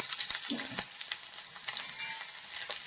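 Onion, dried red chili and curry leaves sizzle and crackle steadily in hot oil for a mustard tempering, with a few stirring scrapes in the pan.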